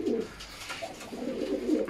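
Pigeons coo in low, throaty bursts, two rolling calls close by with a soft pause between them.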